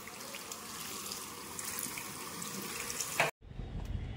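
Tap water runs steadily over a milk packet as it is rinsed in a sink, a close continuous splashing that stops abruptly near the end before a brief resumed trickle.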